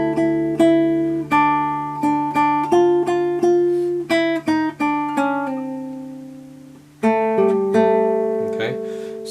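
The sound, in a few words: guitar playing a melody's A section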